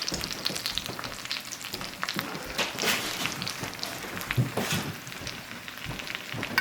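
Pan juices sizzle and crackle steadily as meat is basted for a Valentine's Day gourmet meal, a close, continuous frying hiss with scattered pops and no talk.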